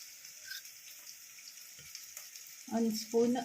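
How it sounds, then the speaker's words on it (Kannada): Mutton-curry prep: a little oil heating in a pressure cooker gives a faint, steady sizzle and hiss, followed near the end by a few louder, close metallic clatters. "ಕುಕ್ಕರ್ ಇಟ್ಟಿದ್ದೀನಿ. ಅದಕ್ಕೊಂದು ಸ್ವಲ್ಪ ಎಣ್ಣೆ ಹಾಕ್ತೀನಿ."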